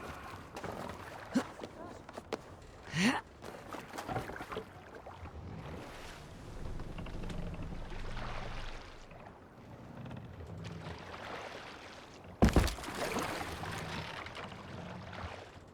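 A Viking longship sailing in Assassin's Creed Valhalla, with a steady wash of water and wind around the hull, occasional splashes and thumps, a louder surge near the end.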